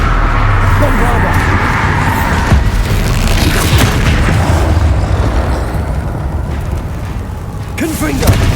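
Bombarda explosion spell in Hogwarts Legacy, heard as heavy booming blasts over a dense, continuous rumble of game effects lasting several seconds.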